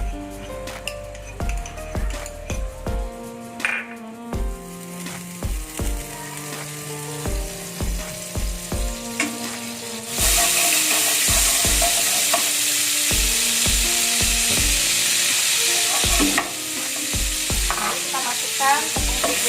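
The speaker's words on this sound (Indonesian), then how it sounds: "Nah, kita siapkan teflon anti lengket. Kita masukkan itu adalah menteganya." Butter melting and sizzling in a non-stick teflon pan, with clinks and stirring taps over a steady frying hiss that swells louder partway through, no voices.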